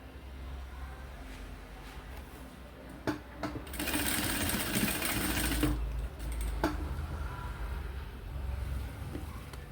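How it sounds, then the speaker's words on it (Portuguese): A sewing machine stitches the zipper seams of a fabric document holder. It opens with scattered clicks, then runs steadily and loudly for a couple of seconds close by before slowing and stopping over a constant background hum. "Vai costurar aqui. Faz isso nos 2 zíperes de um lado."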